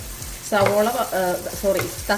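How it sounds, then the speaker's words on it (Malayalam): Thinly sliced tomatoes sauté in a hot pan for crab biryani, starting after a quiet half-second with loud bursts of sizzling and stirring that come and go in uneven waves, close by. "ഇനി അതിലേക്ക് നമുക്കിതാ 2 തക്കാളി കനം കുറച്ചരിഞ്ഞത്."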